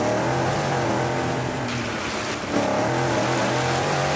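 Rally car in the Dakar 18 video game splashing through a river crossing, a steady loud engine drone with broadband water rush, briefly dipping mid-clip before surging again.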